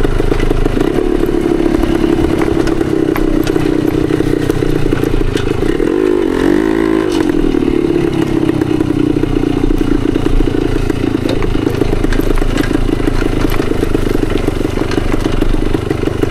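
A 1972 Yamaha DT2 enduro motorcycle rides over choppy tree roots, its engine droning loud and close with a steady pitch that dips and rises briefly, while the bike clatters and rattles over the bumps.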